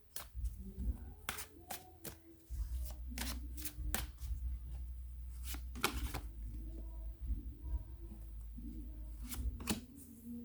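Tarot cards are shuffled in a rapid series of crisp riffles and sharp snaps, irregular and close, over a low steady background hum with no talking.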